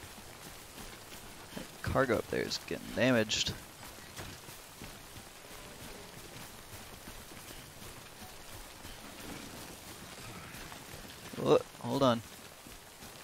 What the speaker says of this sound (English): Out of this rain.